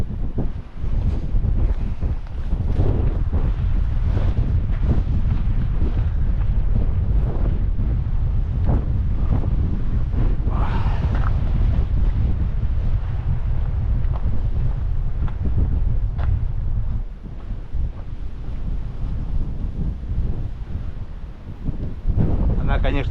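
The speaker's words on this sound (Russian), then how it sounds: "вот тут ветер, правда, такой дует, прям капец наверху" Strong wind roars and buffets the microphone in a continuous low rumble on a hilltop by Yoros Castle in Istanbul, with gusts rising and falling throughout.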